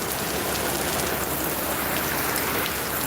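Torrential rain pours down in a dense, constant roar of drops hitting surfaces, loud and close with no letup and no voices.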